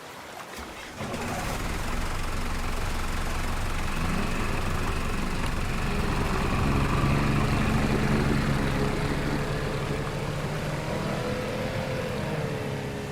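Steady droning motorboat engine running close by, its pitch rising slightly midway, with water noise and no talk.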